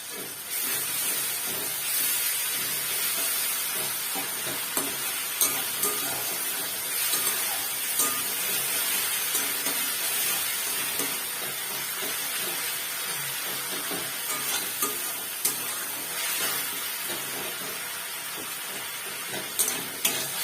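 Ginger garlic paste cooks in a pan after softened tomato, a continuous hissing sizzle with small scattered clicks of stirring throughout, close and unvoiced.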